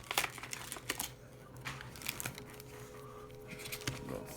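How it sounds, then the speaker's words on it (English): Scissors snip and crinkle through a plastic blister pack of trading cards, a quiet, irregular run of crackles and small cuts close by. "we gotta resort to the scissors to be quicker"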